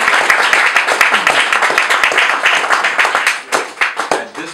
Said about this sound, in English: Let's have a round of applause for our two.